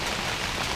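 Heavy thunderstorm rain on a motorcycle trip in Maine, a dense, steady roar of drops hitting surfaces, loud and close with no pauses.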